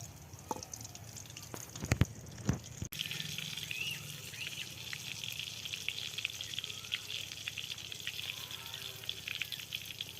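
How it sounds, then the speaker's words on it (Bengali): A few clunks, then a loud, steady crackling sizzle of snake gourd pieces coated in gram-flour batter deep frying in oil that continues to the end. "এইভাবে আমি প্রত্যেকটা বেসনে ফেলে ডুবিয়ে আমি দেব এইভাবেই আমি পুরোটা ভেজে নেব"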